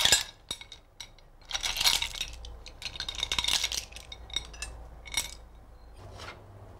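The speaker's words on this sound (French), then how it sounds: "On ajoute les coquillages." Shellfish are added to a dish of hake with piquillo peppers, producing a series of irregular, close, bright clinks and clatters of shells against the dish, with quiet pauses between bursts.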